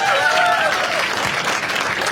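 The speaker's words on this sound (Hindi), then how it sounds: "एक बार इसके लिए ताली बजाओ सब लोग" Audience applause at a stand-up comedy crowd-work show, a dense, steady wash of clapping filling the whole short stretch at close, loud level with a brief cheer at the start.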